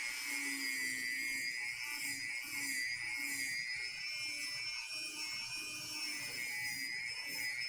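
A rotary tool fitted with a stone bit sands a workpiece with a steady high-pitched whine, its pitch wavering slightly as pressure changes, fairly faint but continuous with no talking.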